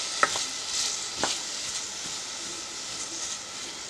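A large onion sautéing in a pan for mushroom soup, a soft steady sizzle with a few light stirring scrapes and taps, close but fairly quiet.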